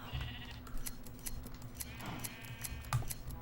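Minecraft sheep being sheared for wool, with repeated snipping clicks and a bleat partway through, heard over a low steady game hum and free of speech.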